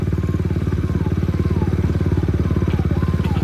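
KTM Duke 200 BS6 motorcycle fitted with an Akrapovic aftermarket exhaust, ridden over about a kilometre of rough road in winter: a steady, close engine drone with rapid pulsing exhaust beats and faint rattling, no talk.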